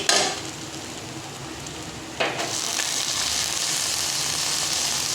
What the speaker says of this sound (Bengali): শাকটাও তেলের সঙ্গে ভাজা ভাজা হয়ে যাবে